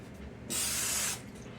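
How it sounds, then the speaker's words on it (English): Cooking spray hisses onto a pan before a batch of beer-batter pancakes, one steady, close spray burst lasting a little over half a second, then it stops. "Let me spray this one more time."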